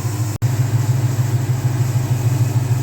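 Hot rod engine in a 1953 Ford F100 idling steadily with a smooth, even low rumble, close and continuous, with one brief dropout near the start.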